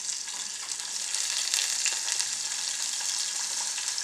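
A small onion fries in a hot pan for a Sri Lankan curry, with a bright continuous crackling sizzle close by and no voices over it.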